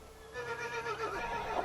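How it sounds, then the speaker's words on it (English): Horses neigh, mares and foals calling, in a close, loud whinny that rises and wavers for over a second against a low background rumble. "What we notice is the neighing of mares and foals."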